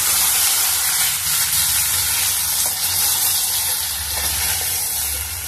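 Potato and tomato pieces being stirred in a frying pan while cooking anapaginjala pulusu, a steady close sizzle and hiss with soft scraping running throughout.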